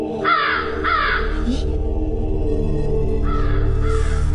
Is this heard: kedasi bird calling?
yes